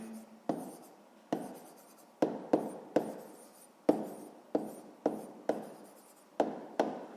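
A pen writes by hand through a sixth-grade math exercise, about a dozen crisp, close strokes and taps at irregular intervals, each fading quickly, with no talking.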